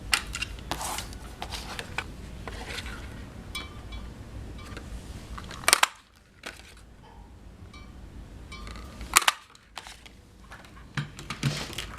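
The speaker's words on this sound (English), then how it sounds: "we're going to punch these images out with the 1 3/4 circle punch" A 1 3/4 inch circle punch cuts paper images for a card, giving a couple of sharp crunching snaps among soft papery shuffling and handling rustle, fairly close and without talk.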